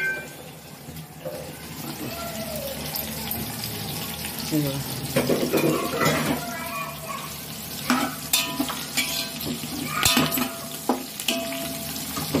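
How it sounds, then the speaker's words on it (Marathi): Spices and chillies roasting in a hot pan, with a steady sizzle and crackle under scattered stirring and scraping clatter, fairly close and continuous throughout. "सर्व आता भाजत आलेलं आहे."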